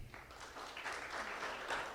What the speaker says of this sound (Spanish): recibimos con un fuerte aplauso en Cristo